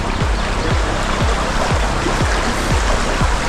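The Crielle river, running low after a hot May, gives off a steady broadband rush of flowing water, with soft low thumps recurring about every half second beneath it.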